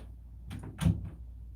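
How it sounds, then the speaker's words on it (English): An indoor door being pushed shut, a short soft swing followed by a single dull thud, close by and fairly quiet, with no talking. "Close this door."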